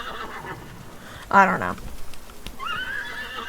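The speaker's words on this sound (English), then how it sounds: "it's the fastest horse in the game" A horse in the Roblox Wild West video game gives one loud, sharp whinny, with hooves clip-clopping around it and a voice speaking briefly.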